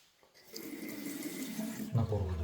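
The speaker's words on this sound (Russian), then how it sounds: "Напор воды хороший." Water running strongly from a tap in a tiled bathroom of a house for sale, a steady hissing gush that starts softly and swells, with a heavier splash as the flow hits the basin near the end.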